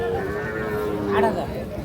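A Sahiwal bull calf moos loudly and close by at a livestock market, a drawn-out bellowing call over background chatter and market noise.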